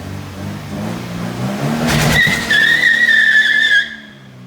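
A 2016 Subaru BRZ with a swapped engine revs up inside a shop, then its tires break into a loud, sustained squeal for over a second before cutting off abruptly.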